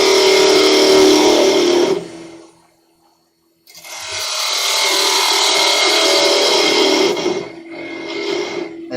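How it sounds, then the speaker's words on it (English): A bowl gouge cuts wood spinning on a lathe, giving a loud, close, steady hiss and scrape in long passes, with a brief quiet gap between cuts and a shorter final pass. "I will use the bowl gouge"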